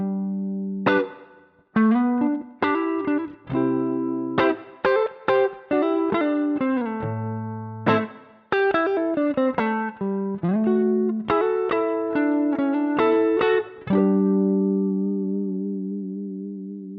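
An electric guitar runs through a chord progression with inverted shapes, plucked chords and quick embellishments ringing out with effects and reverb, ending on a sustained chord, with no talking.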